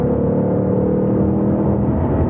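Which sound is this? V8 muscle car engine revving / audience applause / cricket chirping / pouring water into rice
V8 muscle car engine revving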